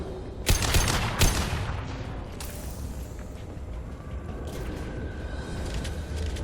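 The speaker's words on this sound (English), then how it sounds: "How about less shooting me from behind?" Enemy gunfire crackles in a Mass Effect 2 firefight: two loud close shots open, then a dense continuous rattle of weapons and mechanical clatter holds at a steady level throughout.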